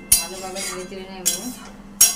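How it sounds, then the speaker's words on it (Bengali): A metal spoon clinks sharply against a cooking pot three times while fried potato and pointed-gourd kofta balls are stirred in simmering water, each clink bright and close, with a low kitchen hum between. "ভালোভাবে নেড়ে চেড়ে নেব।"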